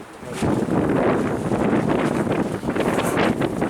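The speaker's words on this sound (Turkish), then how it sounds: "Dışarıda çok rüzgar var." Strong outdoor wind at a pigeon coop roars steadily against the microphone, a dense, continuous rushing noise with slight gusting and no voices.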